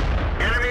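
World of Tanks gameplay: a StuG III tank gun fires as a loud, close boom with a short rumbling tail, under game noise and a voice talking.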